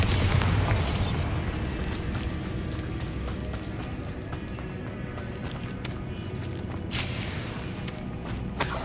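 Bombarda blasting spell explosions in Hogwarts Legacy: loud rumbling bursts with a heavy blast at the start and another near the end, over continuous busy game noise.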